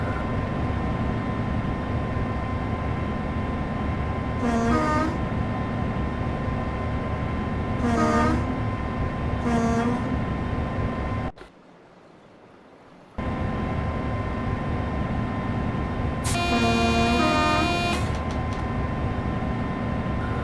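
Class 25 diesel locomotive hauling a cattle train sounds several horn blasts over a steady rumbling engine and wheel noise, with a brief dropout midway.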